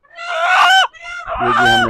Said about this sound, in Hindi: ये भी हमने लिया एक देसी मुर्गा